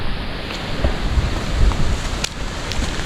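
Strong wind rushes and buffets past the microphone outdoors at a road construction site, a continuous roaring gust with a few brief knocks.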